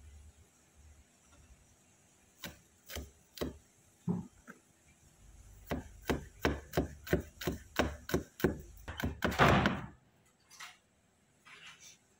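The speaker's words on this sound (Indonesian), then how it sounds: "Selanjutnya aku akan cincang bawang putih." Sharp knife chops strike a cutting board in an uneven run as garlic is minced, then a quick burst of rapid chopping, close up with no talking.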